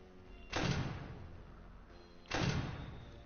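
A small door on a homemade Five Nights at Freddy's model is pressed shut twice, each a close, soft thud followed by a brief rattling slide, about two seconds apart.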